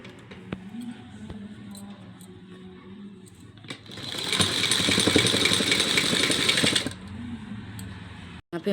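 A sewing machine stitches a summer cotton doll dress in one loud, steady whirring run of about three seconds. Quieter handling noises and clicks come before and after it.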